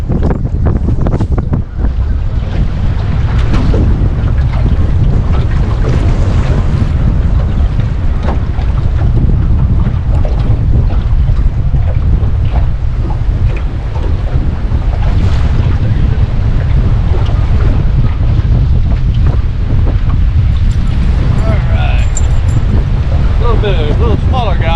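Strong wind gusts across an open lake during spring bass fishing from a boat, with loud, steady microphone buffeting and rushing air throughout, and possible water slapping beneath.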